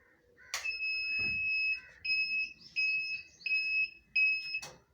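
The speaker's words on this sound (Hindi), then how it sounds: "ये जो बजर दी है इसने, ये अपने आप को स्टेबल करने के लिए दी है।" A soap making machine at start-up emits a loud electronic buzzer: steady paired tones in long repeated beeps, with clunks at the start and end and a brief pause between beeps.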